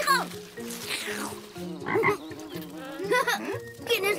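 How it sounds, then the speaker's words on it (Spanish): A large cartoon frog croaks repeatedly in a Maya the Bee animated episode, deep throaty croaks coming in a rhythmic series at close range, with no speech over them. "¡Tienes la preciosa ranita de Barry!"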